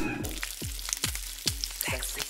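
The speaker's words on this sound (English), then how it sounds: "Sexy sizzle." Close, crackling sizzle in a pan with a few quick scraping and tapping sounds, brief and fairly quiet.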